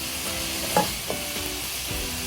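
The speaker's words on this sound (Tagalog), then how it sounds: "Haluin lang natin ng haluin itong ating karne" Meat being stirred in a hot pan, a soft continuous sizzle broken by a few scraping knocks of the spatula against the pan, close up with no voices.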